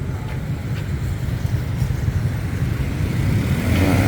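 Steady, dense rumble of motorbike engines in street traffic at Samrong, Bangkok, Thailand, with revving that swells and fades and grows a bit louder toward the end.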